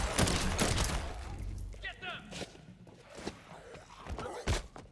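Gunfire from a gun in the video game Dead Island 2, heard as a dense burst of rapid shots and thuds that fills the first two seconds, followed by scattered heavier impacts and game noise.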